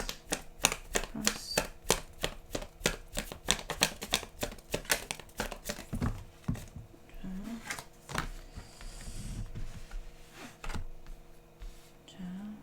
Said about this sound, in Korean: 제가 돌아오시는 분들 추가 카드 좀 뽑아보도록 할게요